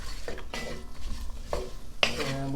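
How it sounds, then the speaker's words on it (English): A spoon stirs onion and jalapeno in a warming Dutch oven on a stovetop, giving a few distinct scraping clinks against the pot over a soft, faint sizzle. "Dutch oven's just starting to warm up, so you'll hear the sizzle come up."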